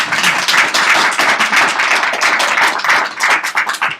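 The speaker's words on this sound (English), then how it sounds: "I want you all to give them a round of applause" Dense, steady applause from an audience for clients, many overlapping hand claps sustained loudly and close throughout with no talking.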